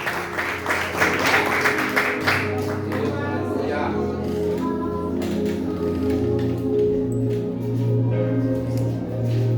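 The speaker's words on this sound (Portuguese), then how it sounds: "aquela linda salva de palmas para o Senhor" Church congregation claps in a sustained round of applause, a dense patter strongest at first that then thins and fades under ringing music and voices.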